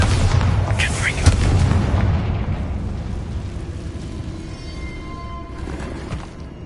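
A Bombarda or Confringo spell explodes in the Hogwarts Legacy video game, a loud deep boom with a rumbling blast that slowly decays into fading debris and reverberation over several seconds.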